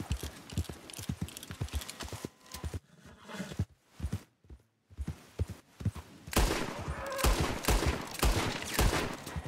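Shots ring out during a buck hunt in Red Dead Redemption, sharp bursts from in-game gunfire that come in a quick cluster, pause through a quiet gap, then return as a louder, denser volley toward the end.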